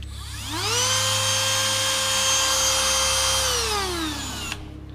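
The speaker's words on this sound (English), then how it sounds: "flat out looks like this" A Dremel rotary tool, used to cut a bolt short on a Ford Fairmont XC GXL, spins up from rest to a steady high-pitched whine at full speed, holds for about three seconds, then winds down, close and loud.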